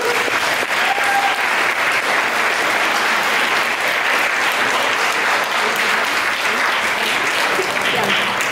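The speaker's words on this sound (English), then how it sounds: "can we get a round of applause for our panelists?" A tennis coaches' panel audience claps in a dense, continuous round of applause lasting about eight seconds, steady and fairly loud throughout with a faint voice briefly in the mix.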